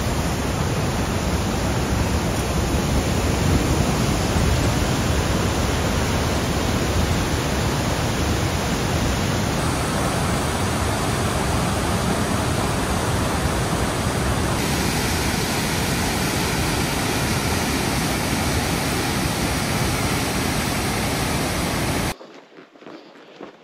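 Waterfall in Johnson Canyon, Banff: a loud, steady broadband roar of falling water that holds for over twenty seconds, then cuts out abruptly near the end.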